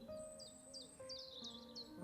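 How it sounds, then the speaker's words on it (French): Birds singing in a forest, several quick chirping and tweeting calls repeating close by over a soft, quiet background. "le chant des oiseaux"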